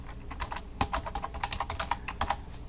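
Quick fingers type JavaScript on a computer keyboard, a close run of crisp, uneven key clicks and taps with one louder strike near the start.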